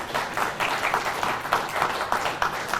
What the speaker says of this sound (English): So just a quick round of applause for these people.